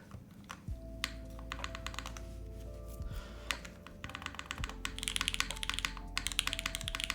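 Typing on a custom-built gasket-mount mechanical Forever Keyboard: a steady stream of crisp, close key clicks with occasional deeper spacebar thocks, growing busier toward the end over a faint tonal background.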